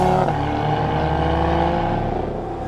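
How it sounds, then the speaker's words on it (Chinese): A Lotus Evora GT410 sports car pulls away from close by, its engine note rising smoothly with a gear change partway through before settling into a steady drone. "一起步那种动静，速度提起来那种换挡那种声音，都相当的顺"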